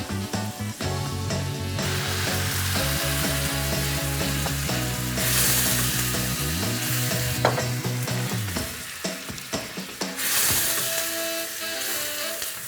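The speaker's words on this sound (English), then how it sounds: "while the wine is reducing and deglazing" Red wine hisses and sizzles in a hot pan with browned bits of spicy chicken sausage while a utensil scrapes and stirs the bottom, loud and close, with louder bursts of sizzle between the scraping strokes.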